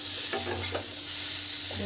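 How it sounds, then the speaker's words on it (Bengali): Potatoes fry in hot oil with panch phoron and dried red chillies, giving a steady close sizzle with a few quick scraping stirs of a spatula. "পাঁচ ফোড়ন দিয়েছি আর লঙ্কা ফোড়ন দিয়েছি শুকনো লঙ্কা দিয়ে এগুলোকে ভেজে নিচ্ছি"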